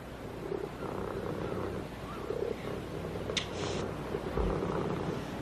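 A cat purring close by, a steady low rumble running through the whole stretch with faint room noise and no talk.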